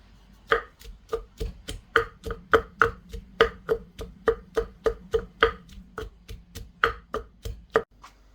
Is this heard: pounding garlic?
yes